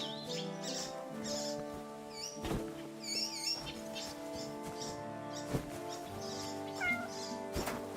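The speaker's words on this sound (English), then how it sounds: "Cat? I heard a cat." A cat meowing in the video game Kingdom Come: Deliverance 2, several short, high meows scattered over a steady layered background music score, with a few soft thumps.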